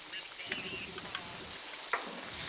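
Pork ribs sizzle on a charcoal grill with a steady crackling fry, broken by a few sharp pops and spits. The sound is close and moderately quiet.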